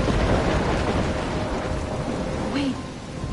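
A thunderstorm in the game Life is Strange roars as a dense wash of heavy rain and wind, with deep rumbling beneath and a brief tonal whine near the end.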